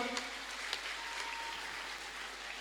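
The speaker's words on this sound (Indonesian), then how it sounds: "Tepuk tangan sekali lagi buat Bapak Bupati." Faint, steady applause from an audience in a pendopo hall at a graduation ceremony for Quran kindergarten and school pupils, continuous and somewhat distant, with a few louder claps near the start.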